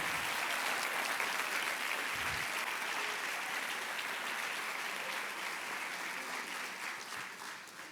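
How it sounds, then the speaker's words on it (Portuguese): Sustained applause from a large crowd, loud and steady throughout, slowly tapering slightly toward the end. "Se é para Ele, aplauda o nome dEle mais forte."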